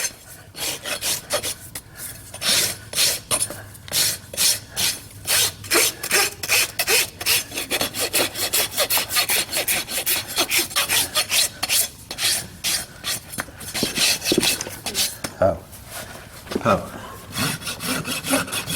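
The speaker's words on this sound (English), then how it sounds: "Use the Bellotta top level. It's a wider rasp." A wide Bellotta rasp files a trail horse's hoof during shoeing. Steady, loud rhythmic scraping strokes repeat close by for the whole stretch, with no talk over them.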